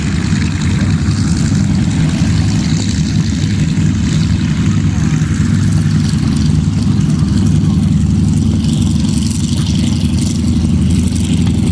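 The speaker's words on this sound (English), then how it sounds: "This is actually a converted Vultee BT-13 made to look like a Val" A Vultee BT-13 trainer converted to resemble a Japanese Val dive bomber, its radial engine and propeller droning loudly and steadily without a break, heard at an outdoor air show.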